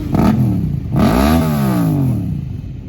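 Motorcycle engines rev loudly nearby at an outdoor bike show by the Eiffel Tower, one short blip followed by a longer rising and falling roar, throaty and clattering.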